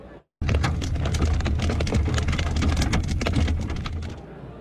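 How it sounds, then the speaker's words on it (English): Rain and pea-sized hail pelting a car driving along a North Texas highway during a storm, a sudden dense, loud drumming of many hard impacts after a brief dropout, sustained and fading slightly at the end. "Rain and pea-sized hail pelted down on cars along the highway"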